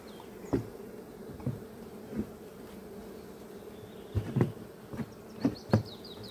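Honey bees work an open beehive in May during a nectar flow: a steady low hum runs throughout, broken by several brief, louder buzzes as single bees fly close past.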